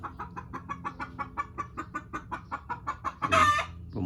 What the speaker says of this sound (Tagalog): pumutak na ang isang inahin dun